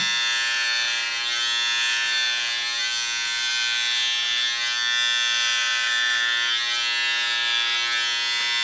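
Silvercrest 5-in-1 SHBS 3.7 E6 hair and beard trimmer running as it cuts body hair, giving a steady, close electric buzz with slight pulsing that lasts several seconds, heard alone without voices.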